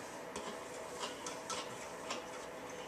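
Soft, rhythmic ticking and light scraping of a utensil stirring colouring into melted homemade soap base in a container, with repeated small clinks at a steady pace, close and quiet, without voices.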